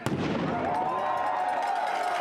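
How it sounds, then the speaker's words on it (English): A cannon fires to open a Haverford School football game against Episcopal Academy, a booming blast followed by a long rumbling wash of echo and crowd noise that holds steady throughout. "each Haverford School football game begins with the firing of the cannon"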